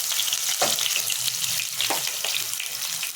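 Whole spices, fenugreek seeds among them, sizzle in hot oil in a pan for a thin rohu fish curry, a steady close frying hiss broken by a few soft stirring clicks.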